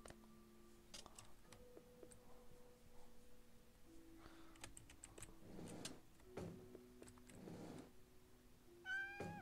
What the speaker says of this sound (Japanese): お、猫の声。